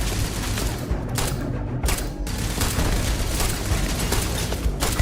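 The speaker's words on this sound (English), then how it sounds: "It's a hacked turret." Automatic turret gunfire in Starfield, a hacked turret letting off dense bursts of rapid shots with booming impacts, steady and loud throughout with no talking.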